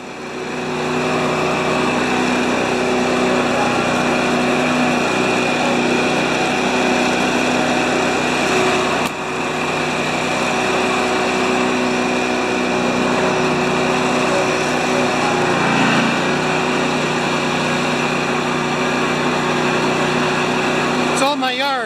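A small engine idles steadily as it warms up in a yard, a continuous buzzing drone held at an even level throughout, with a brief dip partway and some faint background noise.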